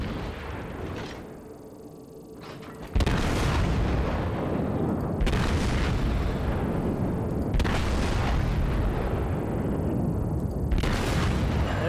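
Heavy battleship guns of a US battleship firing in a naval combat game, several deep booming salvos spaced a few seconds apart over constant low engine rumble, loud and close with no talk.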